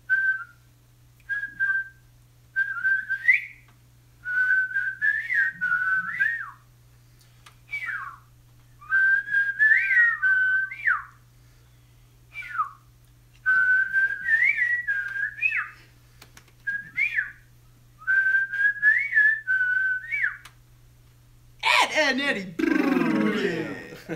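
A person whistles the theme tune from the cartoon Ed, Edd n Eddy in short melodic phrases separated by pauses, close and clear over a faint low hum, ending with a burst of noise.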